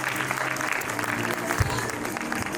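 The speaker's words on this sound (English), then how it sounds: "Let's cheers and clap for this amazing Madhya Pradesh performance." A school annual-function audience claps for a Madhya Pradesh cultural performance, a dense, continuous burst of crowd applause filling the hall, with voices mixed in beneath it.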